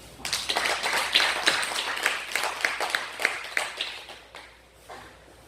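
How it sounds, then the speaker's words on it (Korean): A church congregation at a Sunday service claps together in a rhythmic round of applause that fades after a few seconds. "우리 하나님께 영광의 박수 올려드립시다."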